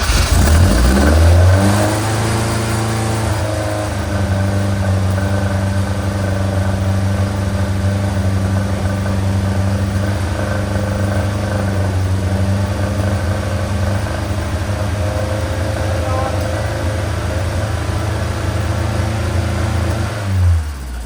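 A freshly built car engine runs at a steady, high idle, its harmonics holding constant for about twenty seconds after an initial rev as it picks up, loud and close with no talking.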